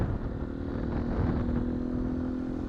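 Small single-cylinder engine of a 2019 Beta 125 RR-S off-road motorcycle running at a steady, moderate pace, a close, continuous buzzing drone with a slight rise in pitch midway and no talking.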